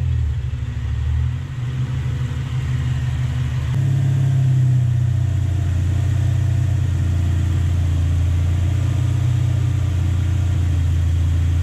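A Toyota 1UZ VVTi V8 in a blue pickup ute runs with its air filter off, a steady loud engine rumble close by that lifts to a higher, fuller idle partway through and holds there.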